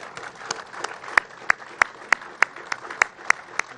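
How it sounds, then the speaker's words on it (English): Sparse, rhythmic clapping of a small group, sharp individual claps spaced evenly and fairly close, with no voices. "Give yourselves a round of applause."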